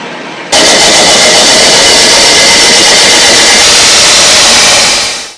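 A steel piece is cut at a 45-degree angle with a power saw, a loud, continuous roaring grind close by that holds steady for about five seconds before winding down. No one speaks.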